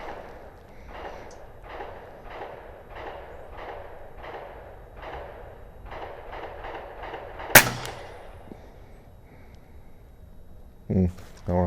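An FX Leopard air rifle fires a slug, giving one sharp, loud crack midway through. Quieter rhythmic sounds and a person talking surround the shot.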